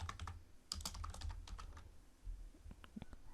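A computer keyboard typed on while entering a number into a sales application spreadsheet: quick clusters of soft, close key clicks with brief pauses, no talk.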